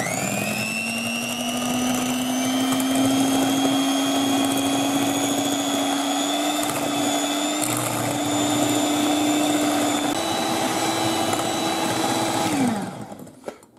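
Electric hand mixer whirring steadily as it beats cream and sugar for a walnut sponge cake, a constant motor whine holding for about twelve seconds before winding down and stopping.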